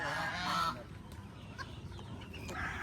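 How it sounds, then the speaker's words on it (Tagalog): Noisy geese and ducks on a farm honking and squawking in bursts, fairly close, with a busy flock's background chatter between calls. "Ang ingay ng bibi."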